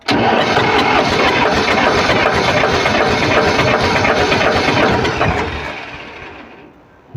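A loud, dense tractor engine runs steadily with a rough, rapid knocking clatter from seized piston rings, then the noise drops away near the end as it winds down.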